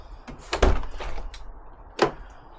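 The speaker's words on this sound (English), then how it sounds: "and then get the door open." Car door on a VW Polo GTI 6N2 being handled and opened in a workshop during sill replacement, giving a couple of short clunks and knocks close by, with quieter shuffling between.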